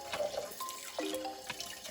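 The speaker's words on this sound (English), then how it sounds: "I'm gonna add some cold water in the pot" Cold water running from a tap into a cooking pot, a close gurgling pour with rising tonal filling notes and splashes, moderately quiet and without speech.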